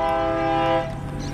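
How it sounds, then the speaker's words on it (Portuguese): Brazilian train hauled by BB36 locomotives passing beside a small community church, its horn sounding a loud, steady multi-tone blast close by that holds, then fades slightly as the train rolls on. "E o trem vem com as BB 36."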